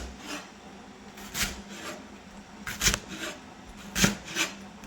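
A sharp knife chops a leek into half-inch pieces, several quiet crisp strokes scattered unevenly over a few seconds with a soft rasping texture between them.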